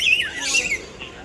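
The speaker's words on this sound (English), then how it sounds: "Two cheeky old parrots fighting." Two old parrots fighting in an aviary display at Mandai Bird Park, trading shrill, harsh squawks and screeches in quick bursts, close and fairly loud.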